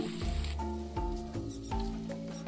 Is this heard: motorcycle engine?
no